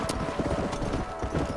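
Horses gallop in the video game Red Dead Redemption, with steady rapid hoof clip-clops close by and a faint whinny in the mix.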